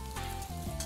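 Potato slices with a piece of ginger pan-frying in chicken fat, a soft, quiet sizzle over a low steady hum, brief and with no voices.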